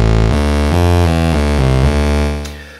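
A bright, buzzy init patch on the TubeOhm De-Generator synthesizer plays a short sequence of sustained notes, loud and up close, then fades out at the end.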